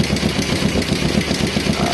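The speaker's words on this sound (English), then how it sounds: "run the engine until all the fuel that's in the carbs comes out" A motorcycle engine idles steadily while fuel runs out of the carburetors, a loud close low rumble with an even pulsing beat throughout.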